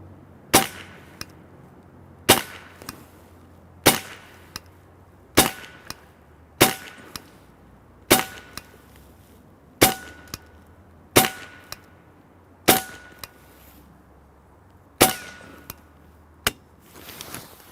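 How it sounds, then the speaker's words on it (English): Shots from a semi-automatic .22 caliber 5.5 mm PCP air rifle hitting .50 caliber brass casings set on a table, heard as a steady series of about a dozen sharp, loud metallic cracks spaced a second or two apart, with no talk. "we had to shoot a couple pieces of our 50 cal brass on the table there"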